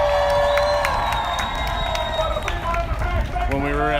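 A large protest crowd downtown at night cheering, whooping and shouting in a dense, loud roar, with individual voices rising above the mass.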